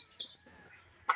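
Hens on a small poultry farm of 50 to 60 birds kept for eggs give a few short, fairly faint clucks and chirps, ending with one sharper, louder call.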